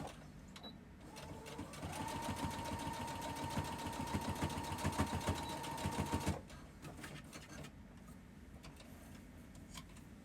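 A sewing machine stitching a custom dress starts with a few slow needle clicks, then whirs into a steady fast run with a sustained motor tone for about four seconds before stopping, followed by faint handling noise.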